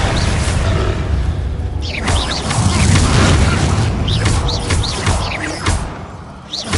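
A Confringo blasting curse bursts in Hogwarts Legacy as loud, close booms with whooshing spell swishes and crackling impacts, several blasts in quick succession.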